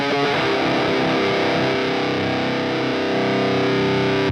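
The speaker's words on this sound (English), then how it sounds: "this is what it sounds like with the NATAS and the Orange Tiny Terror stacked into each other" Electric guitar played through a Fortin NATAS pedal stacked into an Orange Tiny Terror amp set to 15 watts, giving a loud, saturated, heavily distorted tone with sustained chords held steadily throughout.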